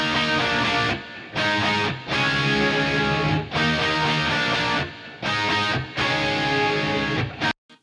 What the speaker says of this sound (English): So that's 4 tracks of guitar with effects